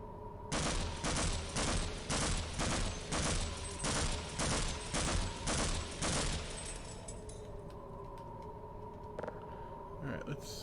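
Rapid bursts of gunfire from the Half-Life: Blue Shift video game ring out about a dozen times in steady rhythm, loud and close, then give way to a quieter humming ambience.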